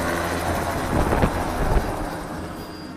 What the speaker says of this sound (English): Preparatory to receive the helicopter.